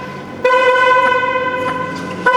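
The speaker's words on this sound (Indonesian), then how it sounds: "Klakson mobil 4M begitu guys" Horn of a roughly four-billion-rupiah convertible sports car with a manual-folding top, parked in a private garage: a steady, harmonically rich honk of about two seconds, loud and close, with a brief second blast at the end and no talking.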